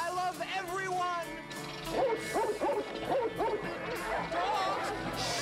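Several dogs yip and bark in quick overlapping bursts, excited and fairly close, layered over busy voices and a noisy film soundtrack.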